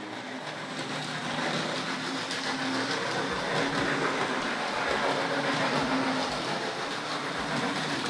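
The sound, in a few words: model train running on track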